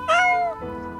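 A single loud, drawn-out cat meow in the video game Adventure Escape: Haunted Hunt, rising sharply and then tapering off, heard alone at close range.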